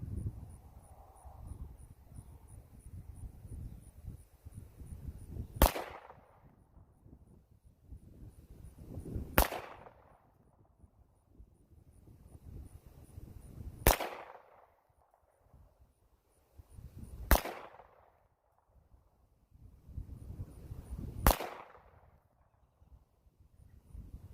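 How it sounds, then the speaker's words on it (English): A CMP 1911 pistol fires single shots spaced several seconds apart, each a sharp, close crack with a short ringing tail. Outdoor rustling and low background noise sit between the shots. "Well, all 7 rounds fired. The slide locked back on the last round."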